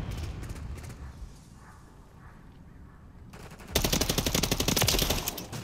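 Rapid automatic gunfire in the Modern Warfare III multiplayer shooter, scattered shots early on, then a loud sustained burst of dense rounds filling the last two seconds, with no talk.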